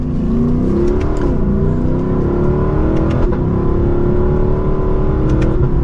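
A loud naturally aspirated V8 engine of a Lexus LC500 revs and rumbles continuously, rising and falling in pitch with a throaty growl, heard close with no talking.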